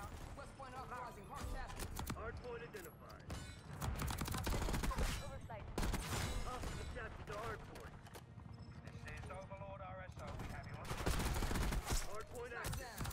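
Rapid bursts of automatic gunfire from the AMES 85 rifle in Black Ops 6 crackle loud and dense throughout, with overlapping shots, game effects and a player talking over the action.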